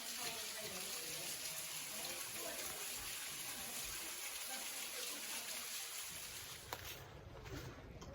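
Waterfall at Bear Hollow in Turkey Run State Park, Indiana, by the ladders: a steady broadband rush of falling water fills the whole clip, close and loud, easing slightly near the end.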